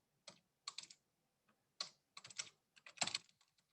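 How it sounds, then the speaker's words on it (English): Someone types on a computer keyboard in bursts of quick key clicks separated by brief pauses, close and crisp in an otherwise quiet room. "So I am going to type in here, see how well my typing is without looking at things."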